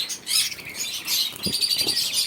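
Caged crested Bengalese finches and zebra finches at a bird shop chirp in short, bright, overlapping calls close by, with faint fluttering and light rustling.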